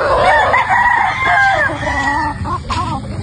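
A gamefowl rooster of Roundhead and Sweater stock crows loud and close in a long wavering call, with further clucking and a second short crow after it.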